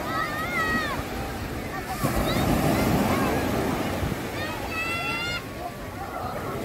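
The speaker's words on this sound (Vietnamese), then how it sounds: "Nghe sóng vỗ mê hồn vậy chứ." Ocean waves wash and roar steadily on the beach at Koksijde, Belgium, while several seagulls cry out above, with a faint hum of voices.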